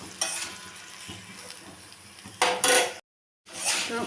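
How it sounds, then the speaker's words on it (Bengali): Masala and chopped vegetables sautéing in a pan for a homemade vegetable curry, a steady sizzle with spoon-scraping clatter, rising in two louder bursts before a brief silence and then resuming. "মশলাটাকে সবজির সাথে ভালো করে কষিয়ে নিলাম"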